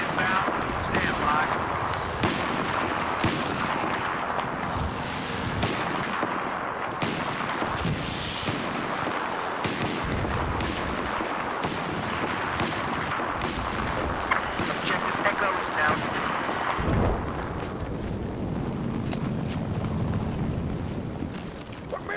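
Battlefield 4 artillery strike: a dense barrage of loud explosions and booms pounds on continuously amid gunfire, with a chaotic, roaring battlefield din and occasional voices over it.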